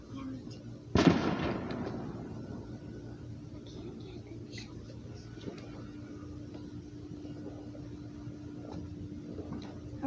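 One sharp firework blast sounds about a second in, fading into a low steady background hum, with faint distant pops scattered afterward.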